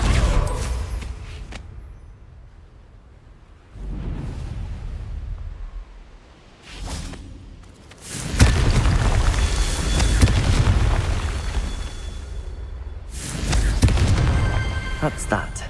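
Repeated booming blasts from the Confringo fire spell in Hogwarts Legacy, several loud bursts in sequence with rumbling tails, one near 8 seconds and another around 13 seconds, with a voice shouting over them.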